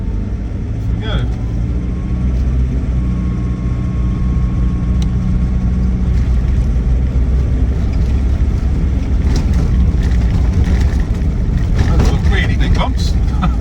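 A Land Rover Defender 90 TDCi XS station wagon with an automatic conversion drives along with its engine running, giving a deep steady rumble and low drone under cabin rattles, with some talk over it.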